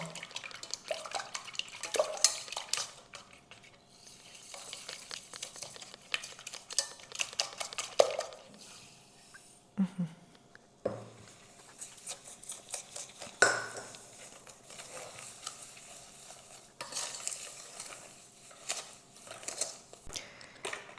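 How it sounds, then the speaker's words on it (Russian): Eggs whisked with sugar in a bowl ahead of making a honey cake: a steady run of light clinking and scraping strokes against the bowl, close by and quiet, with no talking. "К яйцам добавим сахар и хорошенько взбиваем."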